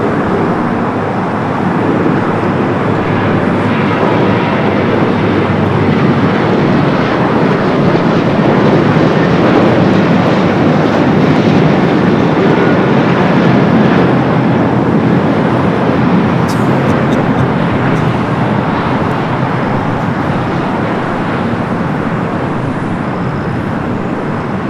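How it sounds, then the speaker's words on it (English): An Airbus A380 arriving from London Heathrow at Los Angeles LAX makes a loud, steady, broadband jet roar that holds for the whole stretch with no voices over it. "flight coming in from London Heathrow on the A380 Super"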